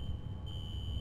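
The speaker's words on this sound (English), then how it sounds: "A fire alarm." A fire alarm in the game F.E.A.R. sounds as a steady high-pitched electronic tone over a low rumbling background, continuous throughout the short stretch.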